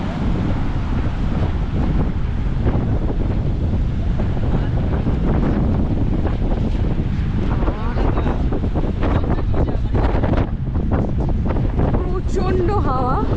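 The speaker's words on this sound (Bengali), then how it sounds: "প্রচণ্ড হাওয়া, জানি না ক্যামেরায় কতটা ধরা পড়ছে হাওয়ার শব্দ।" Strong sea wind blasting across the microphone on Digha Marine Drive beside the ocean, a loud, unbroken roar and buffeting, with surf faintly beneath and voices briefly mixed in.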